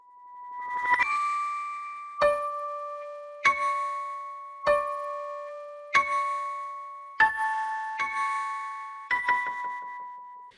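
Bright bell-like chimes strike in a steady pulse, about eight notes, each ringing out and fading before the next, forming a simple melody from the Fear and Hunger game soundtrack piece Streets of Mah Habra.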